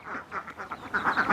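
Ducks on a farm of about 350 birds quack in quick, repeated bursts, several calls overlapping into a busy, fairly close chatter with no talking.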